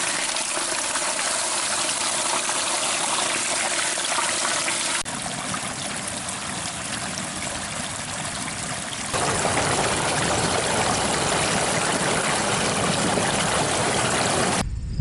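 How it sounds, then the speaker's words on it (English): Water gushing out of the clean-out pipe of a leaking pond, a strong, continuous rushing flow heard close and alone, its tone shifting twice as the stream changes. "This is the most water I've seen come through here ever."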